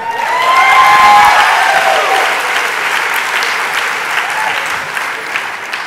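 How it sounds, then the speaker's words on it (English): An audience at a national charter schools conference breaks into applause, loud and sustained, swelling early then settling into a steady even patter of many hands to the end. "You can go ahead and clap."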